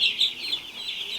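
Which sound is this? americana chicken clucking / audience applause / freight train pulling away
americana chicken clucking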